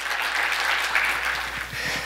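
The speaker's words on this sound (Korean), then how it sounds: "여러분 큰 박수로 맞아주시면 감사드리겠습니다." A conference audience gives steady, close applause to welcome a speaker to the stage, a thick wash of clapping that holds for the whole stretch.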